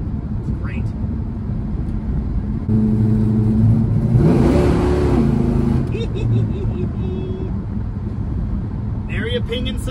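A 1968 Dodge Coronet 500 with a 440 engine, freshly tuned with new plugs, revs up loud in a sustained burst over a steady idle, with faint talk around it.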